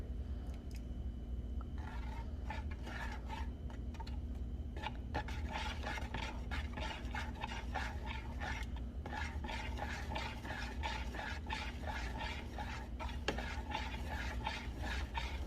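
A spoon scrapes and stirs a creamy breakfast thickening in a pot, giving a continuous rhythmic rasping with repeated strokes, close and moderately loud throughout.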